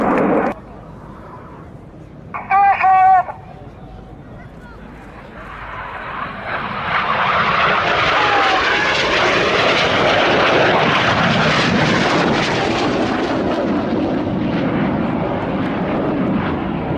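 Aerobatic airplane engine in a hammerhead maneuver at an evening air show, building from quiet to a loud sustained drone that rises and falls in pitch, with brief voice and a tonal beep earlier.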